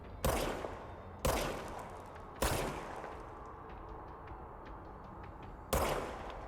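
Heavy gunfire from a machine gun in the action game Control, with four loud, booming bursts spaced a second or more apart, each ringing and echoing as it decays, and no talking.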